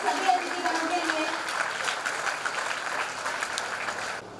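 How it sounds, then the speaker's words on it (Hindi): An audience claps for the guests at a school Teachers Day event at Pooja International Academy in Didwana, producing sustained, fairly loud applause that runs evenly before cutting off abruptly, with a voice briefly audible at the start. "एक बार जोरदार तालियां यहाँ पर सभी अतिथिगणों के लिए।"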